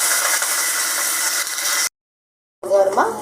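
Curry leaves hit hot oil with cumin seeds for a tempering, giving a loud, steady sizzling hiss that cuts off abruptly, followed after a short silence by a brief, busier burst of sound.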